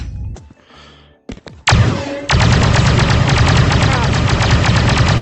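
RT-97C heavy blaster rifle from a video game fires laser bolts in a fast, sustained burst after a few brief sounds, loud, close and continuous, with no talk.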